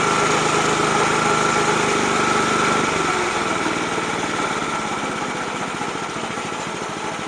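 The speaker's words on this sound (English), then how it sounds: "Let me go ahead and turn off the mower here." A McLane 25-inch 10-blade commercial greens mower runs at steady high revs, a loud continuous buzzing drone that dips slightly partway through and keeps running alone.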